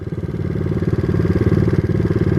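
A four-wheeler ATV engine runs close by in a yard, giving a loud, steady, throbbing putter with a rapid even pulse and no talk over it.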